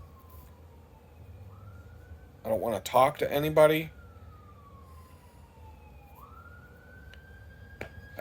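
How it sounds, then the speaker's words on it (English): An emergency vehicle siren wails outside as it passes, its tone sweeping up and down, faint and distant, with a person speaking briefly partway through. "the number of times I hear a siren go by like that"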